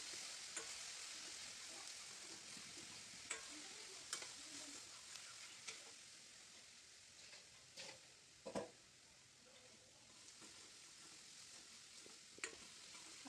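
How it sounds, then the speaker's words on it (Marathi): Spice paste fries in hot oil with a soft continuous sizzle, and a spatula stirs it with occasional light scrapes and taps, close but fairly quiet. "आता हे वाटण तेलामध्ये छान परतून घेऊ 2 ते 3 मिनिट।"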